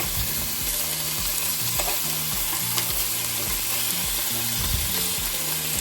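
Sirloin meat sizzling steadily in a hot pan after being flipped, a loud continuous frying hiss with stirring scrapes and no voices.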